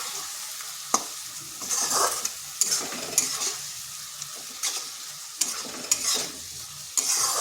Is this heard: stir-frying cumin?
yes